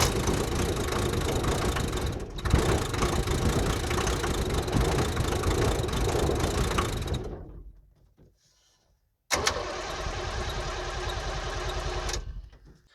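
A 1978 International Scout II diesel engine runs just after starting, a steady close rumble that fades to near silence, then comes back abruptly for a few more seconds before stopping.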